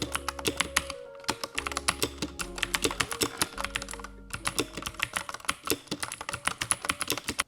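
Fast, clacky typing on a $15 mechanical keyboard with bright, sharp keystrokes in quick bursts, a few brief pauses, and a faint background tune underneath.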